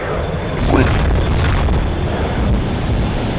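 Missile explosions in a fighter plane video game, a loud sustained boom with rumbling blasts continuing through the stretch as an aircraft is shot down.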